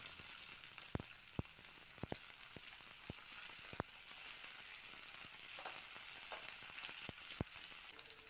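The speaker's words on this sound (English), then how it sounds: "Add cutted onion, capsicum, tomatoes." Chopped onion, capsicum and tomatoes fry in oil in a pan for gobi roast, a soft continuous sizzle broken by sharp spatula clicks against the pan, close and quiet with no talk.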